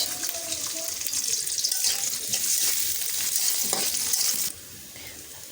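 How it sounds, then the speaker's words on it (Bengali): Onions sizzling and frying in oil in a wok, a steady bright crackle that fills the clip and is near and fairly loud, with occasional stirring scrapes, before dropping quieter near the end. "কড়াই বসিয়ে দিয়েছি কড়াইতে দিয়ে দিচ্ছি তেল দিয়ে দিচ্ছি পেঁয়াজ"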